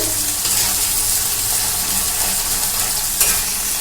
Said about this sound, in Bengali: এবার আমি তেলেতে কিন্তু সুন্দর করে কষে নিচ্ছি মশলার যে পেস্টটা